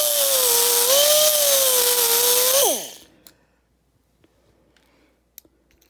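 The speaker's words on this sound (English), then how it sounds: "so I'm just going to sand it here" A small power sander whines loudly and steadily on an object, its pitch shifting slightly under load. It then winds down and stops, leaving faint clicks and handling noises.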